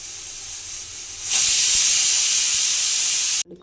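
A pressure cooker cooking rice for vangi bath lets out a sudden loud, steady hiss of steam that holds for about two seconds before cutting off abruptly.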